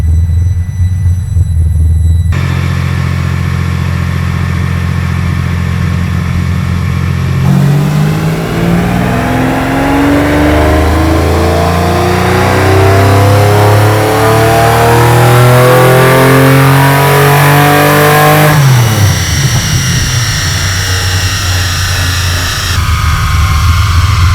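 A V12-powered Foxbody Mustang revs hard on a dyno, loud and close, its engine pitch sweeping steadily upward in a long sustained pull before dropping off, with idle rumble before and after.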